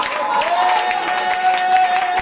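A church congregation shouts for joy and applauds, with claps and cries blending into a lively crowd sound, and a sustained voice-like tone carries over the top.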